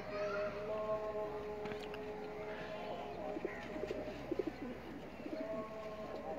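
Pigeons coo in soft repeated rolling calls on a rooftop in Sheikhupura, close by against a quiet background, with brief flutters and faint voices in the distance.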